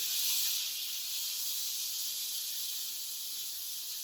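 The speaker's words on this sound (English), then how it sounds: "all we're doing here is we're just adding a little sear to it, just around it, just a little sear" Beef rouladen searing in a hot pan gives a steady, high-pitched sizzle that holds evenly from start to finish, close and fairly quiet with no voices over it.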